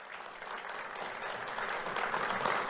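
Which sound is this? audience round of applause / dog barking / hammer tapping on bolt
audience round of applause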